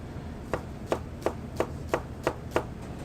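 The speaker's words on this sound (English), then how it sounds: "The shallots, get these nice fine minced." A knife finely mincing shallots on a cutting board beside a grill, seven crisp, evenly spaced chops close by against a low background hum, no talking.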